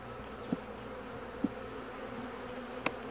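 Honey bees buzzing over an open hive frame during a colony split, a steady low hum with a few brief louder taps or knocks.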